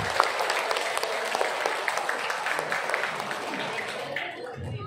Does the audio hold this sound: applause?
yes